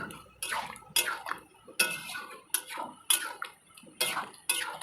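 A spoon clinks against a cooking pot in steady, evenly spaced taps while Bengali shukto, a mixed vegetable dish finished with poppy seed paste and sugar, is stirred near the end of cooking.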